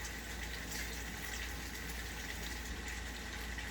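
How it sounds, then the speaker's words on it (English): Water poured into a pot of curry sauce for pork and potatoes, a steady, close splashing hiss of liquid that runs unbroken for a few seconds without any speech. "I'm adding some water so we can have more sauce"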